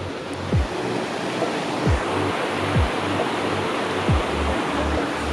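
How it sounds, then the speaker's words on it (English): Broad steady rush of a waterfall in Montana, continuous and fairly even, with a few soft low thumps scattered through. "But look, waterfall."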